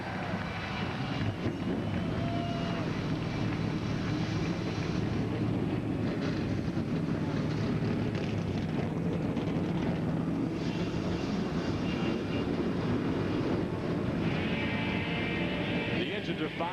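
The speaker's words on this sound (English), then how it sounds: "gentlemen, get pumped and start your engine" A field of NASCAR race cars fire up their engines at the start of the 2004 Goulds Pumps/ITT Industries 200, a dense, steady roar of many engines droning loudly without letting up.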